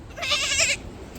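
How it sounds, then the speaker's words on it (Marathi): A single goat gives one clear, wavering bleat, close and fairly loud, lasting about half a second before fading into quiet outdoor background. "ही पा बकरी."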